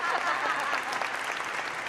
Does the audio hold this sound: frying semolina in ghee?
no